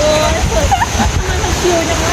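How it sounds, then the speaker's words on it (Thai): Water splashing steadily at Mae Sa waterfall, a loud continuous rush filling the whole stretch, with voices faintly audible beneath it. "น้ำตกแม่สามันมี 10 ชั้นนะเขาบอกว่า"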